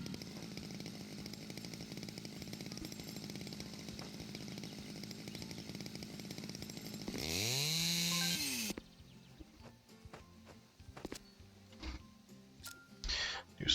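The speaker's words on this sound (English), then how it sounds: "Double the number of logs when cutting with a chainsaw" Chainsaw cutting logs in the video game House Builder: a steady buzzing drone runs for several seconds, then revs up loudly as it bites into the wood before cutting off, followed by quieter clicks and game noises.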